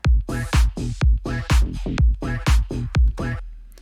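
A rhythmic sequence of short, chopped swoosh bursts, about a dozen loud pulses in a steady groove, ending with a fading tail.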